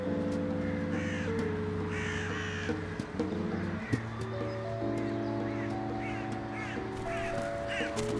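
Crows in the Paris botanical gardens give several harsh caws, some close and some farther off, scattered over a steady musical background.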